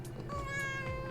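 A blind cat meows once, a drawn-out tonal cry heard close and clear indoors, with no speech over it.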